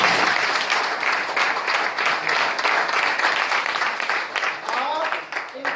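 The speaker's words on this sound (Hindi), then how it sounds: "एक जोड़ा ताली हो जाए इनके लिए।" A seated audience at a gathering gives a round of applause for a Naga baba, with brisk, fairly loud clapping that thins out near the end.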